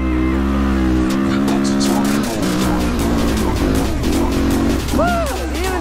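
A dirt bike engine revs hard while climbing a steep sand dune, loud and close with a rising, straining whine and shifting pitch throughout, the rider's voice mixed in.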